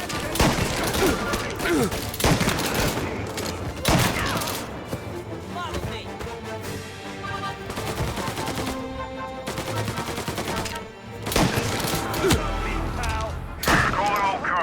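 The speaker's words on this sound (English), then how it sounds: "Reports of gunshots rolling in." Gunfire in the Mafia Definitive Edition video game: rapid bursts and single loud shots crack out in irregular clusters, mixed with game music and effects, with brief pauses between volleys.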